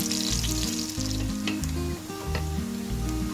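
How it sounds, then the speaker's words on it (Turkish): Lamb tail fat frying and sizzling loudly in a pan, the steady crackle broken by repeated scraping strokes as a utensil stirs the melting fat, close up and without talk. "kuyruk yağı yani iç yağı ara ara bu şekilde karıştırarak iç yağımızın tamamıyla erimesini ve kıkırdak hale gelmesini sağlayalım"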